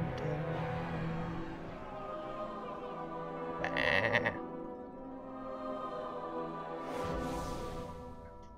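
Sheep bleats come from the Woolomancer's Charge sheep staff in a video game, with wavering bleats over a hum of game sound. Two louder bursts stand out near the middle and toward the end.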